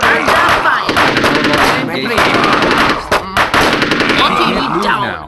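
Rapid bursts of automatic gunfire from a squad firing on command in the tactical combat game UFO: Aftermath, loud, dense and close, with stuttering shots and brief gaps.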